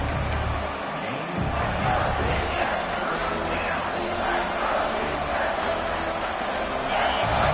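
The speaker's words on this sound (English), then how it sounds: "the crowd coming to life here, trying to help this defense down in the red zone" A college football stadium crowd roars during a USC vs Georgia game as the defense plays in the red zone, a broad sustained rumble of voices with a play-by-play commentator talking over it.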